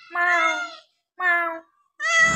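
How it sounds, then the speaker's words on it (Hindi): A pet cat at a family home gives three clear, close meows, separated by short pauses, with the last one rougher and more drawn out. "ये बिल्ली भी पाली है"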